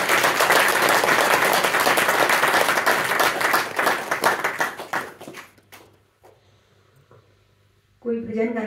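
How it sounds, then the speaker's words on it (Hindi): A gathering at a devotional event claps in loud, dense applause that thins out and fades into near quiet, before a voice starts speaking near the end. "जोरदार तालियां हों"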